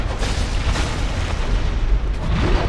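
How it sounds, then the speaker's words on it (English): Explosion in the video game Dark Souls, a loud, booming blast with a dense, rumbling low-end that sustains across the moment, followed by a rising swell near the end. "I rolled the instant the explosion hit"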